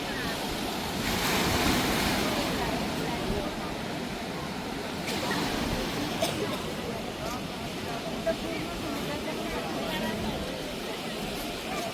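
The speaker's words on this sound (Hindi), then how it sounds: "इतनी तेज लहरें होती है यहाँ पे।" Strong sea waves crash continuously at Madhavpur beach on an evening coast, a loud broadband surf roar mixed with gusting wind buffeting the microphone throughout.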